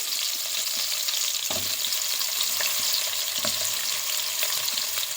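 Carrots sizzling in hot oil alongside onions that are browning to golden, with a loud, continuous close frying hiss and scattered scraping stirs of a utensil against the pan, no voices.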